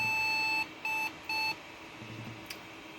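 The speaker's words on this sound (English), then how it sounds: "Beep, beep, beep." An IBM Thinkcentre M50-8188 desktop computer emits three steady electronic beeps, one long and two shorter, clear and fairly close, followed by quiet hum.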